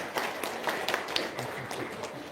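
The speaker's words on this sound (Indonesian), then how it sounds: "tepuk tangan dong untuk Lukman" An audience at an evening religious gathering applauds for a man called up to the front, a steady patter of many hands clapping throughout, moderately loud and slightly distant in a reverberant room.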